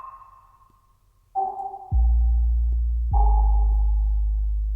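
Pluck Lean Drop preset on the Soundship synth plugin: a plucked tone followed by two booming, deep dropping hits that ring out and sustain loudly, with no talking.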